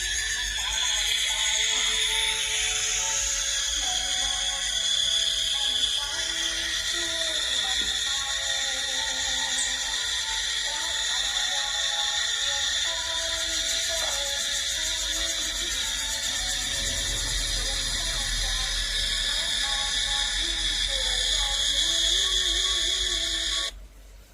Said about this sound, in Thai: วันนั้นจักรจันร้องจริงเดี๋ยวเดี๋ยวจะเปิดให้ดูนะคะ ร้องเสียงดังมาก